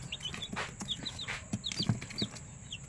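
Three-day-old chicks peep in quick, high, downward-sliding chirps, several birds calling close by over a soft low background murmur.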